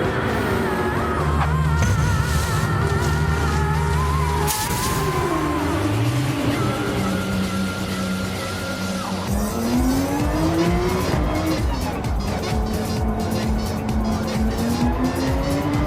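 Race car in a Grand Prix video game at Interlagos leaving the pit lane on hard tyres, engine whining up through gears with tyre squeal, loud and continuous, with a voice talking over it.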